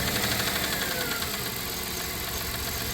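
A 1997 Dodge Caravan LE engine, suspected sticky lifter, runs steadily at idle with a continuous mid-range drone and faint rhythmic knocking, close and loud without any talk.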